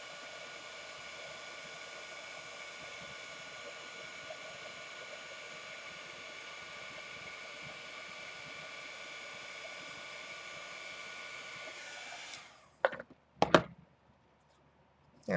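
A heat tool blows with a steady, even whirring hiss while melting homemade embossing powder, running continuously at close range before switching off, followed by a couple of sharp handling clicks.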